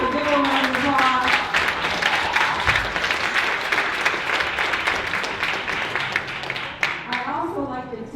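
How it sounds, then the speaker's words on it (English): Sustained audience applause with some cheering at a Florence Price birthday tribute concert, loud and continuous for several seconds with voices briefly audible at the start and end. "So give her a round of applause."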